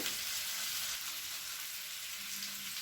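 Fish pieces fry in oil on a griddle with a faint, steady sizzle and soft crackle, low and even throughout.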